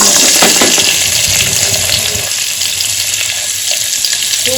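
Vegetables, carrots and potatoes, fry in hot oil in a home kitchen, giving a loud, steady sizzle with faint stirring and clinks throughout, no talking.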